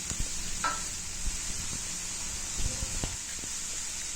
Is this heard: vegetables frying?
yes